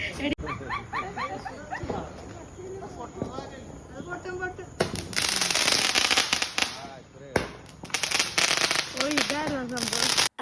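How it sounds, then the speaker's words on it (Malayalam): A dense burst of crackling firecracker pops fills the second half, following a stretch of dogs barking and whimpering alongside voices, during Vishu celebrations. "അങ്ങനെ പടക്കം പൊട്ടിക്കലൊക്കെ കഴിഞ്ഞ്"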